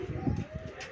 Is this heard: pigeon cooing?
yes